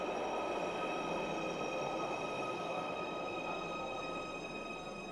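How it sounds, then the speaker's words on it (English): A Merseyrail class 777 electric train pulling into an underground station, a loud close roar of wheels on rails with high squealing tones held throughout, fading slightly at the end. "So our train is here. It's another treble 7 unit, noisy."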